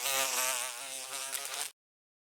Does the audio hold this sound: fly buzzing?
yes